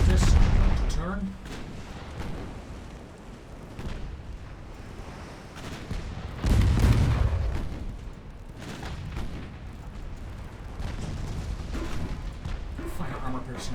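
A 6-inch naval gun firing in a naval battle game, heavy booms near the start and again around the middle, with lighter distant rumbles and a voice talking between shots.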